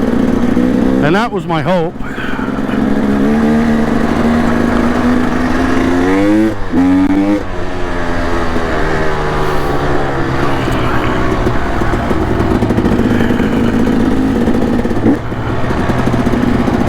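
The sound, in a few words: KLX140RF dirt bike engine on single track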